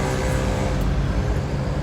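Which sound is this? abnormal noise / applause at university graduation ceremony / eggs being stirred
abnormal noise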